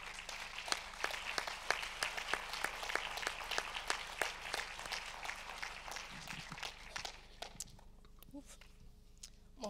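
Applause from a film festival audience greeting the short-film jury, moderately distant and fairly quiet, steady clapping that thins out toward the end into scattered claps.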